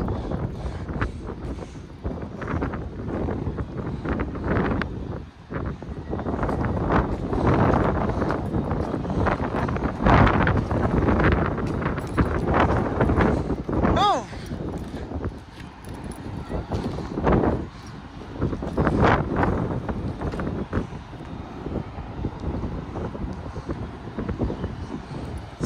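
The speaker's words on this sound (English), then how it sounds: "I can easily feel wind around here" Strong wind from a cyclone storm in the Bay Area buffets the microphone in a steady, roaring rush for the whole stretch, with gusts rising and falling and no clear pauses.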